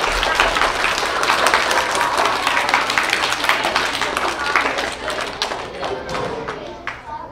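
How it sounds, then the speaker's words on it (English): Schoolchildren applaud at a reading event in an elementary school, a dense, steady roar of many hands clapping close by that holds loud for several seconds and then thins out toward the end. "Okay, so you may applaud for yourselves."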